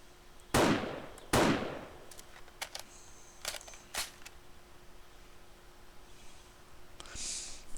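Two sharp, loud gunshots early on in the survival game 7 Days To Die, followed by fainter clicks and small knocks and a soft hiss near the end.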